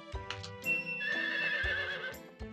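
Synthesized horse whinny from the Nintendo 64 farming game Harvest Moon 64, a bright rising neigh mixed with clip-clop hoof beats and game music tones, clean and alone.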